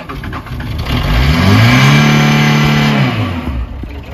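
A Peugeot 205 engine cranks and catches after a cold start without preheating, then revs up and holds a steady rising drone before dropping back, loud and close with no talk.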